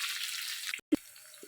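Sizzling hiss of cut onions being sautéed and stirred in a pan for sambar, steady at first, then breaking off briefly before a single knock of the spoon and a quieter fry.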